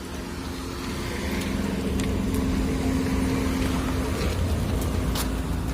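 A motor vehicle approaches outdoors, its engine rumble swelling and holding steady and fairly loud, with faint higher background noises scattered through.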